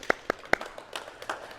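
Claps from people at a youth basketball practice in a gym: three sharp claps close together, then scattered softer claps and taps that trail off.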